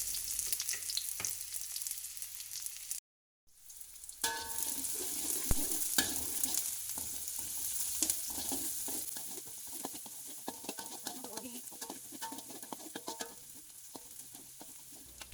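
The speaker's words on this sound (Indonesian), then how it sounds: "Kemudian tumis bawang merah dan bawang putih yang sudah diiris sampai harum." Sliced shallots and garlic sautéing in cooking oil in a pan for simple home-style fried rice, a steady loud sizzle with a spatula stirring and scraping, a brief cut near the start, no talk.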